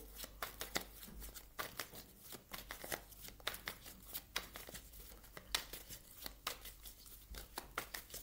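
Tarot cards are shuffled close up in quiet, rapid riffles and slides, with soft papery flicks coming in uneven bursts and no talk.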